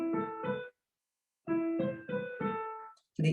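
A short piano phrase: two notes, a pause, then four notes settling into a resolved close, with a final note just starting at the end.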